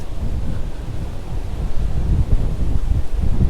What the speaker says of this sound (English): Whoa, another strong gusty wind.